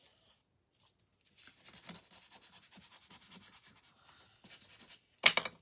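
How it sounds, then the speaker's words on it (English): Scissors rubbed firmly over paper to press it onto a small art card, a quiet series of rhythmic scratchy rubbing strokes up close, ending in a sharper louder scrape. "I'm just going to use my scissor to push it down"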